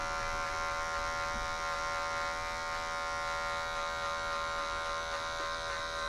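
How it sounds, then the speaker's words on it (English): An electric hair clipper with its blade set fully open buzzes steadily at close range, a constant motor hum that stays even throughout without pauses. "now I'm gonna take my clipper all the way open"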